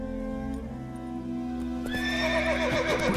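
Roach, Geralt's horse in The Witcher video game, gives a loud, close whinny over steady game music, followed by a brief snort and a few hoof sounds.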